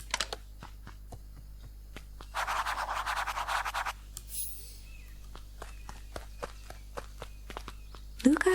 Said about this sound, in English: Luka heard a group of footsteps approaching